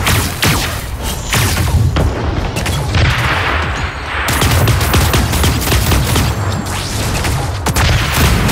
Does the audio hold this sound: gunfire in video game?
yes